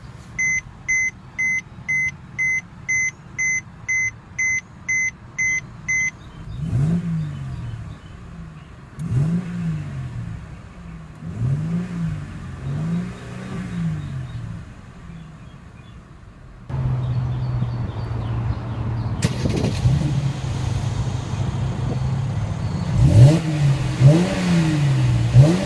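Repeated dashboard chimes come first, then a 2014 Mercedes-Benz C350 starts with a push button and its engine is revved several times in short bursts, close and fairly loud, before settling into a steady idle with more revs near the end.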